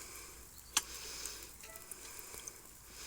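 Steady, soft sizzling of potatoes frying in a pan, a continuous hiss with one brief sharp crackle, no voices.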